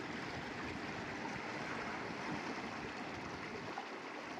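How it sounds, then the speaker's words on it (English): Steady wash of ocean waves at sunset, a continuous broadband roar of surf close by and fairly loud, with no talk over it. "I hope the sound of the ocean is not too loud in comparison with my voice."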